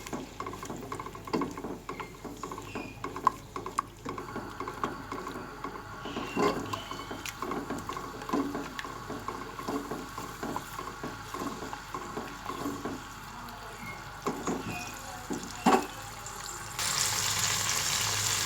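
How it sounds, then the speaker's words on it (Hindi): Yogurt frying with spices in a pan for matar pulao, a soft continuous sizzle with light pattering and scattered clinks of stirring, steady and moderately faint throughout, no voices. "दही डाल के भूनेंगे हम अच्छी तरह।"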